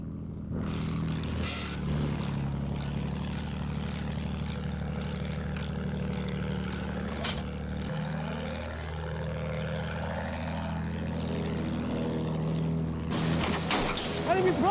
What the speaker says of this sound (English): Enemy plane up there!